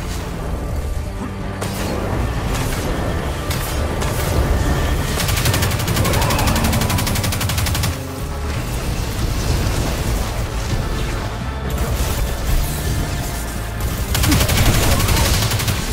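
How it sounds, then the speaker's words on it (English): Gunfire in the Destiny 2 video game on the Inverted Spire map: dense, rapid automatic bursts with booming impacts, loud and nearly continuous, broken by brief pauses. "Guns."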